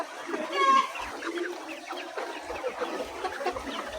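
Debeaked chickens on a poultry farm cluck softly and steadily, close by, with a brief louder call early on.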